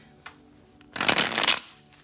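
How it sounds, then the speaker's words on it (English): A deck of tarot cards being shuffled up close, a soft flutter building into a dense, loud riffle of rapid card slaps lasting about half a second, then fading out. "that was a bad shuffle"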